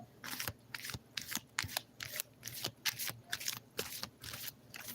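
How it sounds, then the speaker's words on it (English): Rapid bursts of tarot cards being shuffled, crisp riffling and flicking repeated in an irregular rhythm, close and moderately quiet with no talking. "those of you who just enjoy the tarot shuffle, the shuffling that I'm doing"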